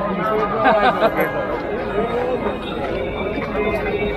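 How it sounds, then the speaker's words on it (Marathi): Dense, steady crowd chatter fills the Anganewadi Bharadi temple fair, a continuous babble of many overlapping voices at close to mid distance with no single voice standing out. "इकडे बघू शकतास पाठीमागे गर्दी किती आहे ती."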